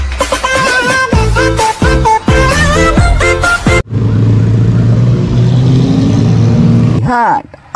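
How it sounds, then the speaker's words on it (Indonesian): A silver sports car passes on a road with a loud broadband whoosh and engine roar lasting a few seconds. Music plays before it and a brief rising tone follows. "ada mobil sport warna silver"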